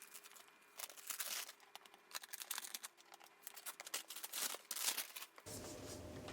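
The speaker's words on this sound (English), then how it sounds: "Okay, another quick unwrapping here." A book package is unwrapped up close, with crinkling, crackling plastic and paper rustles in quick irregular bursts, followed by a steady low hum at the end.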